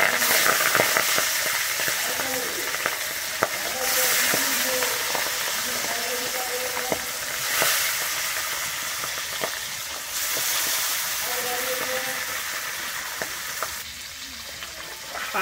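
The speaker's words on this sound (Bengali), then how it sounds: "পাবদা মাছ কিন্তু এক পাশে ভালো করে ভেজে নিতে হবে" Pabda fish sizzling in hot oil with turmeric in a pan, a steady crackling fry with occasional louder spits and stirring clatters, close and continuous.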